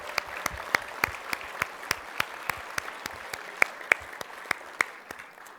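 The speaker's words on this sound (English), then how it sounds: "So you all deserve a round of applause." Applause at a Hall of Fame induction ceremony, heard as sparse, evenly spaced individual claps, fairly quiet and close, as if a small group or one person keeps clapping.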